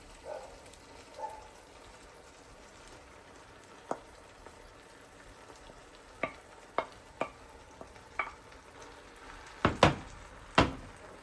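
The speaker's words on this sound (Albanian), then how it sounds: "Janë zbutur qep mjaftueshëm, tash ja shtoj mëlçinjt e coptuara." Chopped lamb livers fry with softened onions in about 100 ml of oil in a pan. A low, steady sizzle runs underneath, broken by scattered sharp clicks and scrapes of a utensil that grow louder and closer near the end.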